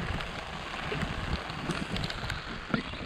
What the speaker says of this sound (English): And started raining.